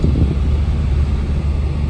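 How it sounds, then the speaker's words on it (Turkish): Steady, heavy wind roaring and buffeting across the microphone during a snowstorm on a mountain, a continuous low rumble with no pauses and no voices. "Ama çok rüzgar var."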